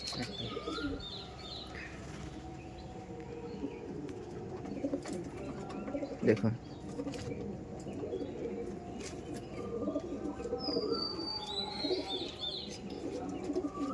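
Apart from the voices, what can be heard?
Kaldum pigeons cooing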